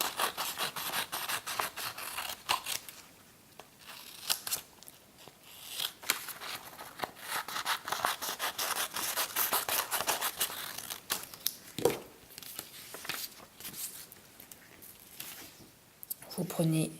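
Scissors cutting a lace-making pattern out of cardboard or Bristol board, with irregular close snips, crinkling and paper scraping throughout, a voice speaking quietly in places.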